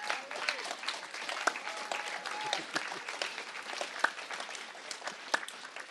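An audience claps steadily for several seconds, a scattered, moderately loud round of applause without voices.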